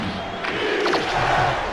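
Stadium crowd roaring and cheering in ESPN NFL 2K5 during a football game, a steady loud wash of massed voices through the whole short stretch.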